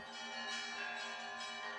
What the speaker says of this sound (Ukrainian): на її честь над Дніпровськими схилами залунав церковний передзвін